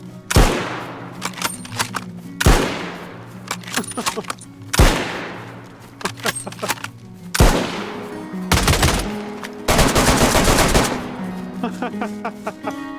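Loud bursts of DayZ gunfire, rapid volleys and single heavy shots repeating every couple of seconds, ending in a long sustained barrage.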